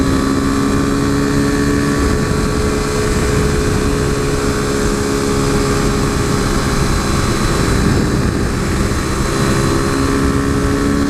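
A modded 2015 KTM RC 390 single-cylinder engine drones steadily at high revs while riding, loud and constant with heavy wind rush and no break in the tone.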